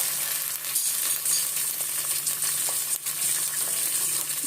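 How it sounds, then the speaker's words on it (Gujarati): Beans, carrots and peas frying in a pan, a steady close sizzle with faint scraping and clinks of stirring, no voices. "એને થોડી વાર શેકાવા દઈશું આપણે."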